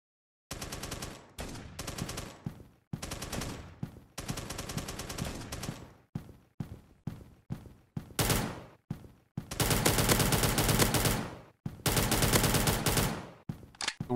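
Sniper rifle and other gunfire in the retro-style shooter video game Retro Combat, with loud bursts of rapid automatic shots broken by short pauses, then quicker single cracks, then two long sustained volleys near the end.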